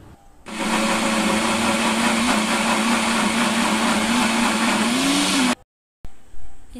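Electric blender grinding soaked red lentils and rice for dal piyaju, a loud steady whirring drone with a slowly shifting motor pitch, running alone for about five seconds before stopping abruptly.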